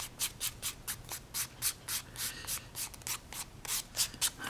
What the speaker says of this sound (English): take our 400 again, lightly scrape that, lightly sand it